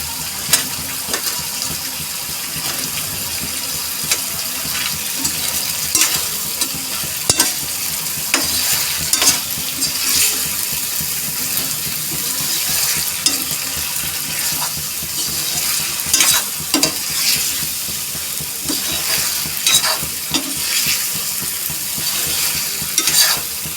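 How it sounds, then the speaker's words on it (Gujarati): Potatoes are stirred into a sizzling onion-tomato gravy in a pan while dum aloo cooks. A steady close frying hiss runs throughout, broken by repeated scraping and clinking of a spoon against the pan. "હવે આપણે એમાં બટેકા એડ કરી દઈશું"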